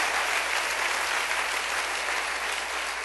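Church congregation applauding steadily throughout, a dense, even wash of clapping from a large room with no voices standing out.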